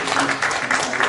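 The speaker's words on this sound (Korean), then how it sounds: "두 분 우리 박수로" A church congregation applauds during a Sunday service to congratulate a couple, a brief, dense burst of clapping filling the hall with no voices over it.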